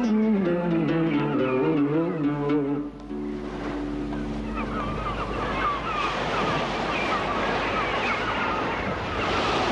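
Sea waves wash and roll in a steady, broad surf on the coast, loud and close, with wind buffeting the microphone; a man sings briefly over the first few seconds before the surf continues alone.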